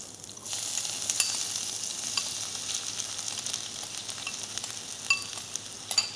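Onions and curry leaves fry in a pan of hot oil with spices, giving a steady bright sizzle and crackle up close, with a few sharper pops and stirring scrapes toward the end and no talking.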